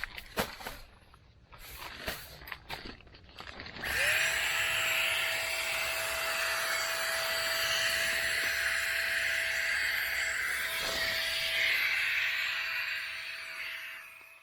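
A small electric Gigapump 2.0 air pump switches on after a few seconds of handling clicks and then runs with a steady, close, high-pitched electric whir and airy hiss that holds for about ten seconds before easing off.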